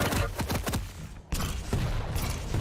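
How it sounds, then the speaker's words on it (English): Rocket barrage in a Quake competitive match, heard as a dense run of loud explosive thuds and blasts in quick succession, a brief lull, then more booming impacts continuing near and loud with no talk. "Chara just waiting till the barrage of rockets ends"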